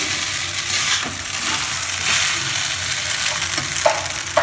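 Steady sizzling of a Chinese stir-fry in a hot pan after soy sauce and tomato sauce go in, with occasional scraping stirs and clinks throughout.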